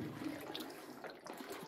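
Spring water flows and trickles inside Cantabon Cave in Siquijor, a soft, close, continuous gurgle with small splashes, fairly quiet and heard alone.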